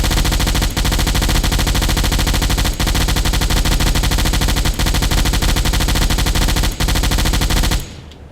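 A submarine deck gun fires at a ship in Silent Hunter IV, with loud repeated shots at a regular rhythm of about two seconds over a dense, continuous roar that cuts off at the end.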